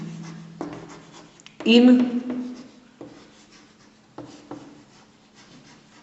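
Chalk or marker scratching out an equation on a board during a class 11 straight-line maths lesson, with short scraping strokes and one louder burst of writing, all under a teacher's steady talking.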